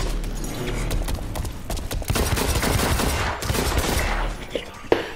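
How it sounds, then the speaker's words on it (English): Rapid pistol gunfire in a first-person shooter video game, dense bursts of sharp shots running almost continuously at moderate loudness. "I'm using the pistol now"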